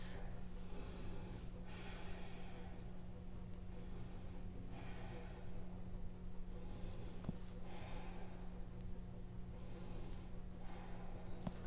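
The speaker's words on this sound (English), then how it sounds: "And three more ujjayi breaths." Ujjayi breathing during a yoga backbend pose: slow, hissing breaths through the throat recur about every two seconds, soft and close over a low steady hum.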